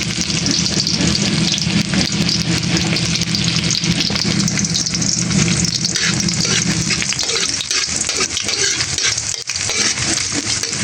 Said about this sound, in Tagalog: Dito naman po ako po ay nag-gisa na po ng luya.